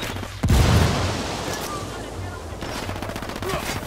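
Gunfire in the Ghost Recon Wildlands video game starts with a loud boom-like burst, then continues as steady rapid automatic fire with a busy, clattering texture.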